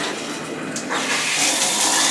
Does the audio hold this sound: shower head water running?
yes